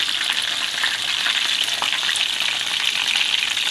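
Whole chicken legs, boiled first, shallow-frying over medium heat in oil that covers only half of each piece: a steady, dense crackling sizzle that stays close and even throughout, with no voices.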